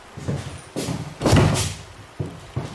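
Heavy kicks against a door in a horror video game, several loud thuds and bangs in irregular succession, close and forceful, with no talking over them.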